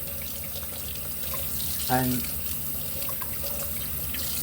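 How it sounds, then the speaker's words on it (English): Tap water runs steadily through a pork intestine in a sink under quiet background noise, with a brief spoken word near the middle. "then you just run water through it"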